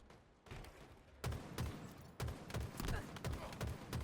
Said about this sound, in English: As you can see, the shots continuing to come through.